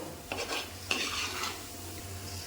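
A spoon stirs tomato and shallot curry in a metal pan, scraping and clinking in a few distinct strokes over a faint sizzle, with no one talking.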